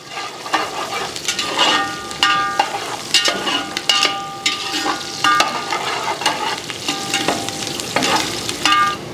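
Onions frying and being stirred in a pan for mutton kaima sambar, loud close sizzling with repeated scraping strokes of a ladle against the pan in an uneven rhythm, no speech.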